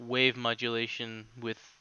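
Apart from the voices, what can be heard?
No everyday noise stands out behind the speech.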